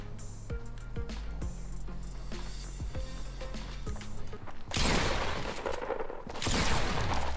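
Gunfire in Fortnite at Tilted Towers: sharp single shots early on, then two dense bursts of rapid fire, moderately faint overall.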